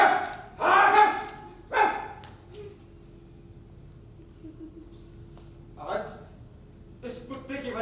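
A dog barks during a live Hindi theater play at a festival, a few loud barks close together at the start and another burst later, with stage speech in between and a faint tone carrying through the pauses.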